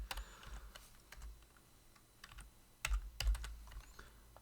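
Keys clatter on a computer keyboard during a game-programming lecture: scattered soft taps punctuated by a couple of louder bursts of quick keystrokes, close and fairly quiet, with no voices.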